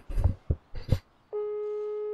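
Inside a sewer-level video game, a phone call ends in a steady electronic busy tone, which sounds loud and unbroken for about a second after a few short thumps.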